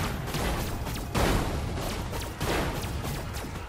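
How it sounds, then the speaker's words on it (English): Explosions in Destroy All Humans, several heavy bursts spaced a second or so apart with a crackling, rumbling roar between them that stays loud throughout. "Triple explosion. That's what we want."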